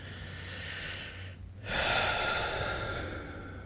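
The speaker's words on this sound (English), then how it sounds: "Nice deep breath." A single slow, deep breath during a calming tapping exercise, an airy inhale, a brief pause, then a longer breathy exhale, close and alone.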